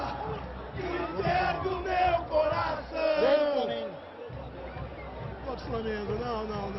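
Internacional supporters react to news at a 2009 football match, a large crowd roaring and chanting with rising and falling shouts, loud and dense, with voices and whoops layered through the swell.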